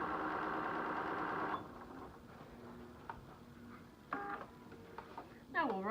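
A Bernina 780 sewing machine with a 37 foot stitching a quilt block, a steady close mechanical whir for the first part, then quieter with a voice talking over it.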